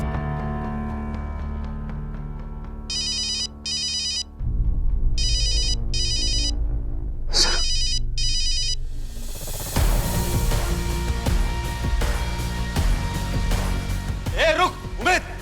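Mobile phone ringtone chirping in repeated short electronic bursts after a traced number is dialled, over a loud dramatic music score, with sharp effects near the end.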